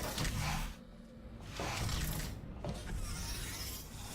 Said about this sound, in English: wonder how the elevators are still working.